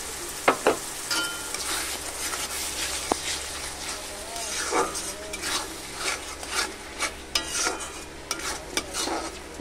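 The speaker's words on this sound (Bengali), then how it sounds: "এটা ভালো করে কষিয়ে নেব একটু।" A ground paste of cashew, poppy seed and fennel sautés in a pan for dhai katla fish curry, with repeated scraping stirs, spoon taps and a low sizzle, and a voice talking intermittently.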